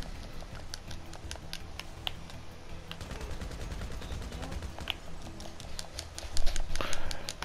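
A bigger gun fires in a crime video game: dense rapid bursts of sharp shots crackle almost continuously, loud and close, building to a heavier flurry near the end.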